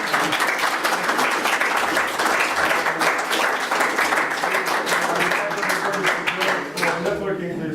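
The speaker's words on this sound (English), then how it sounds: "I think we can just applaud for a very good presentation." An audience at a talk on big data and machine learning applauds after a presentation, with dense, sustained clapping that stays loud and even from start to finish.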